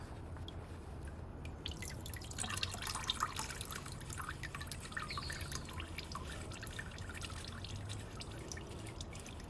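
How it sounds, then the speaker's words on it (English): Quiet, steady trickling and dripping of motor oil from a removed oil filter on a 2015 Mazda 3, faint and continuous with small irregular drops, heard up close. "Get some oil dripping out of there."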